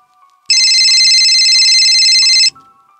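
An electronic telephone ring plays as a single unbroken trill of about two seconds, loud and clean against near silence, used as a story sound effect.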